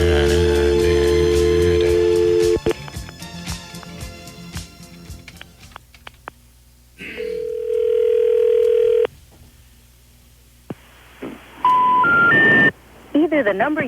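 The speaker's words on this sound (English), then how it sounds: "I dialed the wrong number." Telephone tones on a radio call-in show: a dial tone, then a quick run of short touch-tone beeps, followed by a long steady tone and a rising three-note sequence, loud and close, with talk heard between them.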